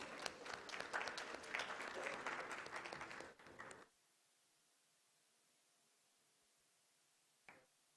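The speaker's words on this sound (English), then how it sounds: "I think by the end of the conference now we can all clap well." Applause at a startup summit conference in India, a dense burst of clapping for about four seconds that stops abruptly, followed by near silence and one brief final clap.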